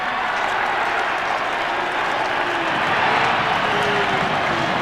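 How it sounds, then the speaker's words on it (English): Stadium crowd roaring at an Australian football match between Adelaide and St Kilda in 1991, a dense, steady wash of cheering and shouting that holds loud and continuous throughout, swelling slightly near the end. "The Adelaide crowd starting to scream out"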